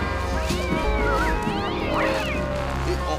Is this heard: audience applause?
no